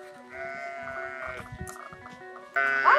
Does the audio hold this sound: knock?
no